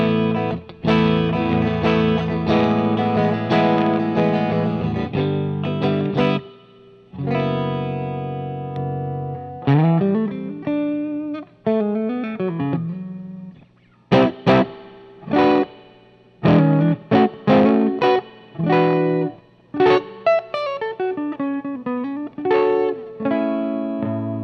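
Electric guitar played through a Marshall JCM800 split-channel 2205/2210 amp with reverb switched on, gritty distorted chords and single-note runs ringing with a reverb tail, loud and continuous with brief gaps between phrases.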